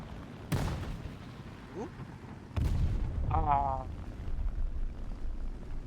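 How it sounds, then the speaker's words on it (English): A bomb goes off in a video game: two sharp, booming blasts, the first early and the second stronger and more sustained, with a voice briefly exclaiming. "We penned him with the bomb, but we did not end him with the bomb"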